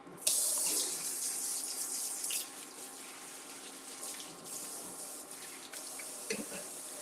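Tap water runs steadily from a kitchen faucet into a sink while something is rinsed, a continuous close hiss with small splashy variations.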